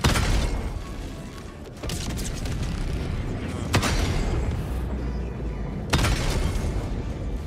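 Mini nuke explosions in a shooter video game: several heavy booming blasts with crackling debris at intervals, each bursting sharply then rumbling on, with game noise continuing between them.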